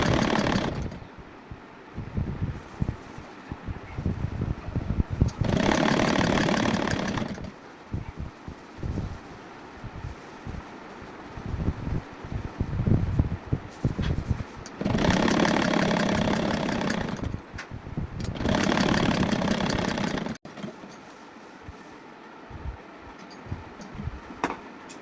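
An electric sewing machine stitches a folded strip around the round neck of a blouse, its motor running in three short bursts separated by quieter pauses.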